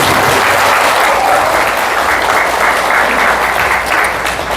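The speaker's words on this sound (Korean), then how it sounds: "박수 한번 보내드리겠습니다" A lecture audience claps loudly and continuously from start to end, a thick, even wash of many hands close by, tapering only slightly near the close.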